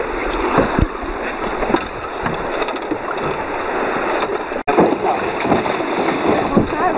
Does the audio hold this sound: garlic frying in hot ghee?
no